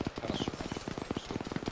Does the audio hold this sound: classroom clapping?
no